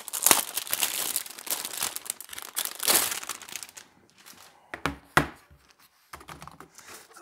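Plastic wrap crinkles and crackles as it is pulled off a Razer Huntsman V2 Tenkeyless keyboard, with close, busy rustling bursts that thin out into sparser crinkles and a few sharp snaps near the end.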